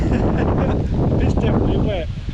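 Wet, windy, cold gusts across Dorney Lake roar steadily as broadband buffeting on the microphone, loud and continuous throughout, easing slightly near the end.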